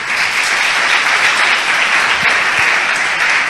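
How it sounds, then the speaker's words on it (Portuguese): A church congregation claps together in steady, dense applause that stays loud and even throughout, with no voices rising above it. "Dá um lindo aplauso ao Espírito Santo."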